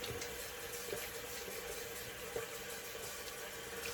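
Water runs steadily from a tap onto a shaving soap puck to soak it, giving a constant close-up gush and patter with no voices.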